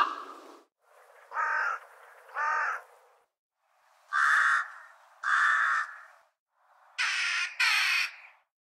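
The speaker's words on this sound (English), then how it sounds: "The croaking of the raven, crow, rook and jackdaw once again." Croaking calls of a raven, hooded crow, rook and jackdaw, heard alone as three loud, close pairs of harsh caws, with the later pair higher and screechier.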